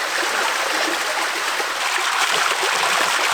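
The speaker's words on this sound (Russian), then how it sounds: "И идешь, и постоянно вот такие вот водопады." Waterfalls rush and splash steadily in a lush green valley on Madeira, a continuous close roar of falling water with no voices.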